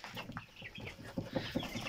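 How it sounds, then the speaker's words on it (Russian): A few soft, quick clucks and peeps from two-month-old chickens sound close by, faint and brief amid a quiet shed. "Вот такие вот у меня цыплятки."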